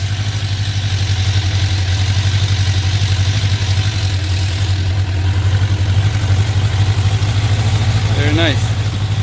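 A 1994 Suzuki Katana 600 (GSX600FR), an air-cooled motorcycle, idles on full choke just after starting, with a steady, loud, low rumble throughout and a brief voice near the end.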